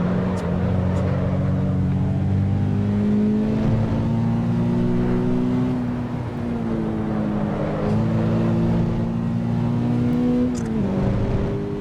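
Race car engine in the Assetto Corsa EVO racing game, holding a loud, steady drone with harmonic pitch rising and dipping through gear changes and cornering, continuous for the whole stretch with no talk.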